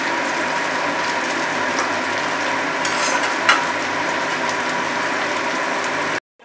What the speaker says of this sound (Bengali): ভেজে তারপরে আমরা পেঁয়াজ আর ক্যাপসিকামটা দিয়ে দেবো।